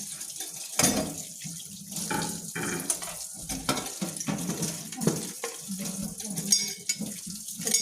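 Running tap water splashes into a sink as food is washed, with intermittent clatter and handling sounds, fairly close, steady flow throughout.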